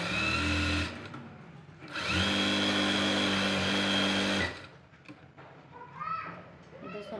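A domestic sewing machine stitching a blouse runs in two loud, steady whirring bursts with a stop between, then falls quiet to light handling noises and a voice in the background.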